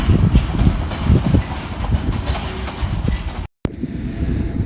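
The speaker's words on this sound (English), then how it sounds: "This is Stonebridge Park Railway Station, operated by TfL London Underground banner, and it has 2 platforms." A London Underground train at Stonebridge Park station, a loud close rumble with rhythmic wheel clatter and hiss that drops out briefly and then resumes more quietly.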